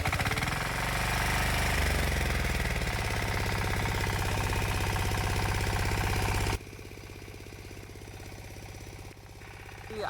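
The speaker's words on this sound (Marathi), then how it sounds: "हे ट्रॅक्टर चालू करतोय" A tractor engine, stated not to be diesel, starts up on a Konkan rice farm and then runs with a loud, steady, rapid chugging. Partway through it drops to a quieter, lower idle.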